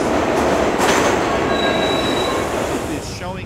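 A subway train in the city-building game SimCity 4, a loud continuous rumble of wheels on rails with a thin metallic squeal rising briefly partway through, steady and close, fading slightly at the end.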